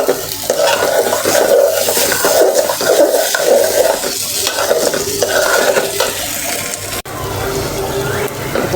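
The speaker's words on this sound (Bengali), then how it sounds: "চাল ভাজা না হলে পোলাও ঝরঝরা হবে, তাই ভালো করে ভেজে নেব।" Raw rice fried in a pan for pulao, stirred vigorously: a loud, close scraping and rustling of grains against metal over a constant sizzle, with one abrupt break near the end.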